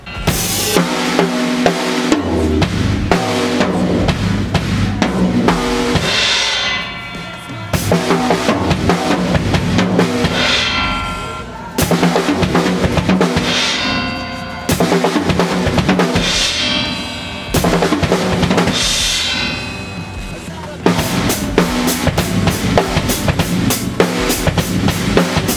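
A drum chop pattern played over and over on a kit, with floor tom, snare, kick and cymbal crashes in repeating bars. The hits are loud, close and dense, with short gaps between phrases and no talking.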